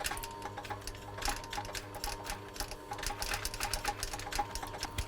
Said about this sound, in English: dead on stitching straight right the way through.